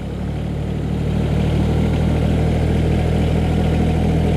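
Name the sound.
Branson 1905h sub compact tractor engine running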